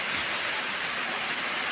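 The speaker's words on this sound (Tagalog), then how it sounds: "Nagsige hapon ang ulan diri sa amua." Steady rain falls at night during a typhoon power outage, a dense, even hiss of heavy rainfall with no other sounds.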